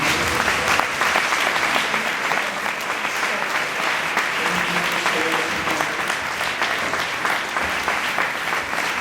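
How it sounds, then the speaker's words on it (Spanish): Steady, loud applause fills a church congregation throughout, dense clapping with no letup and faint voices mixed beneath. "denle un aplauso al Señor"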